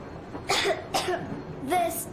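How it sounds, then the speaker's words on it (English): A child coughs three times in short, separate bursts, close and clear, with a faint background hum, in the game Metro Exodus. "I have this cough."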